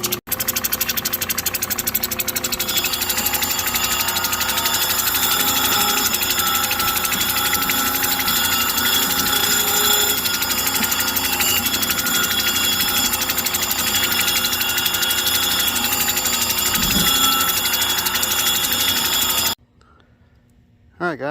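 A polishing machine grinds a soft stone with a constant, loud mechanical whir and rattle for nearly twenty seconds before stopping suddenly, leaving brief quiet.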